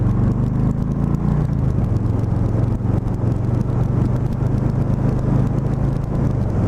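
A 2018 Harley-Davidson Softail Lowrider cruises at 60 mph, giving a steady, loud low engine drone mixed with continuous road and wind rush, heard from the rider's position without pauses.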